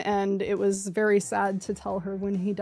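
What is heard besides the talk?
No everyday noises stand out.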